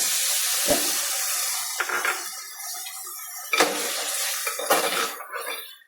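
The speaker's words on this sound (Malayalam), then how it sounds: "നമുക്കിനി ഇതിനകത്തോട്ട് പുളിവെള്ളം ഒഴിക്കാം" Tamarind water is poured into a pan of sautéed okra for okra theeyal, giving a few scattered clattering, splashing bursts against a steady hiss, with no talking.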